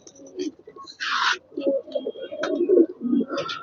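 A Kaldom pigeon from a Madhabdi bloodline coos in repeated low, throaty rolling phrases close by, with a brief rustling burst partway through.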